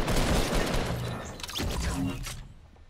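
Shotgun gunfire in a Fortnite Battle Royale match, heavy loud blasts up front with more shots and clatter following, fading out toward the end.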